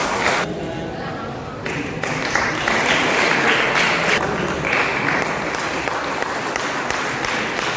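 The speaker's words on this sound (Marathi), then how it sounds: "या ठिकाणी जोरदार टाळ्या वाजवायच्या आहेत" An audience applauds at an award ceremony honouring Konkan artists. The clapping is loud, dense and continuous, mixed with crowd noise.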